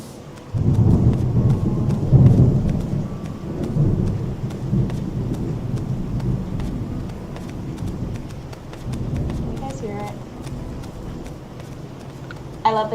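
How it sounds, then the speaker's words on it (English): Rain and rolling thunder in the video game Animal Crossing, a steady loud rain hiss with low rumbling thunder swells, heard alone without talk. "I love the sound of rain"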